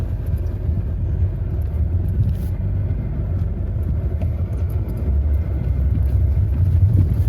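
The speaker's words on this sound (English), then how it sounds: "we're driving off-road. It already feels a lot smoother." A car drives off-road over rocky ground with lowered tire pressure, giving a steady, close, low rumble of engine and tires on rough terrain with faint bumps and knocks throughout and no talking.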